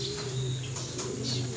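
Racing pigeons cooing in a loft, with low, steady coos rising and falling continuously at close range alongside faint chirps, and no talk.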